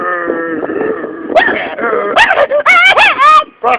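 A dog gives a run of close, loud, wavering whines and yelping cries, rising and falling in pitch, with short breaks between the later calls.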